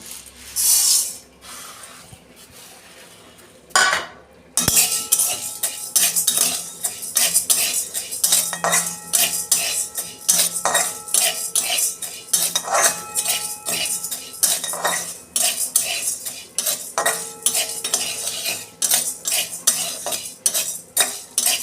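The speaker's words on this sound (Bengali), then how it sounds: "এই ডালগুলো আমি একটু কড়াই নেড়ে নেব।" Lentils are dry-roasted in a wok for a papaya dal, and a spatula stirs and scrapes them in a quick, steady rhythm of clinks and rattles, loud and close, with no talking.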